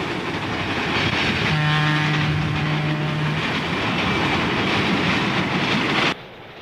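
Pennsylvania Railroad GG1 electric locomotive hauling a mail and express train on a four-track main line, a loud close rumble and rail clatter with a sustained horn blast in the middle, cutting off abruptly at the end.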